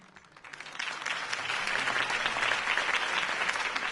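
Crowd applause for Harvey Dent at a campaign rally in the Telltale Batman video game, a dense clapping wash that swells in over the first second and holds steady and loud to the end.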